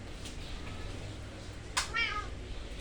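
A cat meows once in a dim setting, a short rising-then-falling cry near the end standing out over steady low background noise, with a brief sharp sound just before it.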